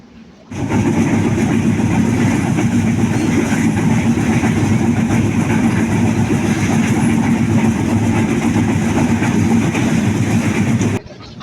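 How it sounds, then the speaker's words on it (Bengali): The Nilsagar Express hurtles along at high speed, a loud, close, unbroken roar of wheels and carriages rumbling steadily for about ten seconds before cutting off. "নীলসাগর এক্সপ্রেস ট্রেনটি কিন্তু বিশাল গতিতে ট্রেনে যাচ্ছে"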